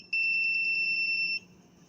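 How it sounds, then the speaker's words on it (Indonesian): The buzzer on a smart home prototype's flame sensor gives a loud, shrill, rapidly pulsing beep for about a second and a quarter, then cuts off, with no voices. "maka buzzer akan menyala."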